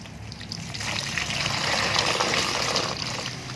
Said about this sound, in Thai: ยกมาแช่น้ำเลยค่ะนี่แช่น้ำลงไปเลย